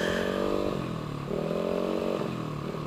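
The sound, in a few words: racing motorcycle engine running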